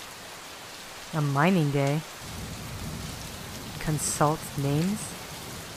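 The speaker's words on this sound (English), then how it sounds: "What are you doing out in the rain?" Steady rain falls in the game Gemini Rue, a soft continuous hiss underneath two short stretches of talk.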